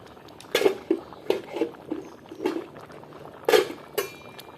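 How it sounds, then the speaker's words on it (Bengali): Charchori curry bubbling in a pot over a wood-fired stove, with scattered soft plops and bursts of bubbling and a few sharper clinks in an irregular rhythm, close and moderately loud. "এই যে বলক এসে পড়ছে"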